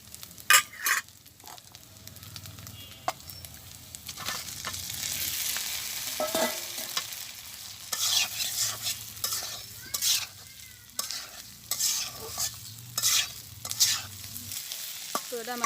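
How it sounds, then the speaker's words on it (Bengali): Fried pointed gourd is tossed and sautéed in a spice paste in a village kitchen, a steady sizzle punctuated by sharp, irregular spatula scrapes and clinks against the pan, close and clear with no talking. "আমি এখন দিয়ে দেবো ভাজি পটলগুলো।"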